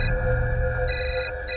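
A telephone rings with a sustained electronic tone that pulses in on-off bursts, loud and close, with no talking.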